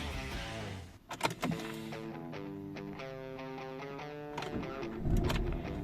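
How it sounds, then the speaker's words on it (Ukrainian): A used Volkswagen car's engine starts and settles into a steady idle, a loud crank burst at first, then a continuous hum with a rise near the end. "завелась машинка просто чудо"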